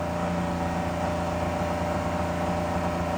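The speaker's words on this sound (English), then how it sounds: "There's that idle, or well, fast idle RPM fluctuation" A 2006 Ford 6.0 Powerstroke diesel that runs rough drones at fast idle, a loud, steady, close mechanical hum with layered tones, RPM swings barely evident.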